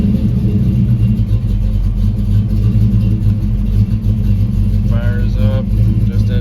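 A Foxbody Mustang V8 running on a freshly swapped carburetor after its EFI was removed, a loud, steady low rumble idling close by with slight surges, and a brief voice near the end.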